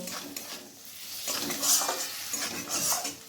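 Ginger, garlic and onion frying for mutton keema tadka, stirred in a pan with a utensil scraping and clinking over a quiet sizzle, close and fairly soft.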